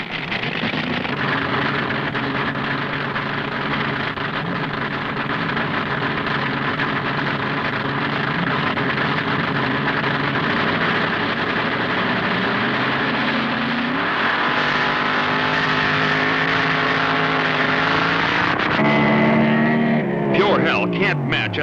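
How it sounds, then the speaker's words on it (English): A gas-burning roadster makes a drag racing run at the 1969 NHRA Nationals, its engine droning steadily and loudly for a long stretch before shifting and fading, with an announcer talking over it. "Leaving first on the handicap start will be the gas-burning roadster of Ron Ellis from Michigan."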